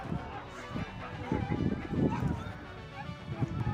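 Hunting dogs bark while chasing a wild boar through jungle scrub. The barking is faint and distant, coming in scattered bursts beneath a voice talking.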